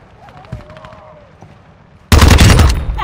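Rapid automatic fire from a TR-76 Geist rifle in an Xbox shooter game bursts in loudly after two quiet seconds of faint game sounds, continuing as a dense, sustained volley until the end.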